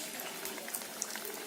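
Egg samosas frying in hot oil: a continuous soft bubbling sizzle with scattered small crackles and pops, fairly quiet and close.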